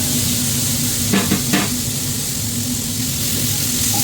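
Chopped tomatoes tossed into a pan with coriander leaves for an Arabic-style jasheed sizzle as a steady, close hiss, with a brief clatter of stirring near the middle.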